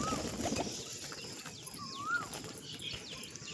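Pigeons in a home loft coo and call intermittently against a steady outdoor background, with occasional wing flutters and a few brief chirps mixed in.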